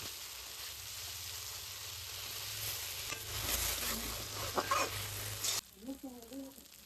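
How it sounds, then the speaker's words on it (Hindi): A spoon stirs bamboo shoot curry with spice paste in a pan, a steady sizzle with scraping strokes and a few clucking chickens in the background, ending in quieter frying. "अब इसको चला लेंगे अच्छे से दोस्तों"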